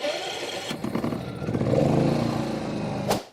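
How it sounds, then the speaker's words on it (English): A Champion dual fuel inverter generator, 3,400 watts on gas and 3,000 on propane, cranks and fires up, its engine note building into a steady, fairly loud running rumble before cutting off abruptly near the end, with no talking. "Okay, we've got the generator on."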